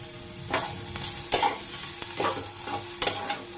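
Finely chopped onions and capsicum sauté in a pan, with repeated scraping stirs over a steady low sizzle, close and fairly loud.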